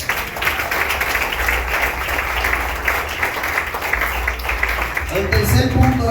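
A church congregation applauds during a Spanish-language sermon, broad steady clapping from many people filling the room, with a voice speaking over the applause.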